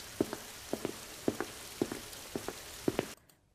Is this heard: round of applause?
no